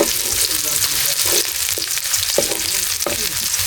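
Ginger sizzling and frying steadily in a hot pan, with a few brief utensil scrapes and stirs breaking through the continuous loud hiss, no talking.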